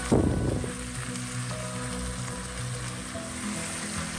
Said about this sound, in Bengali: চিকেনটাও কিছুক্ষণ ভাজতে হবে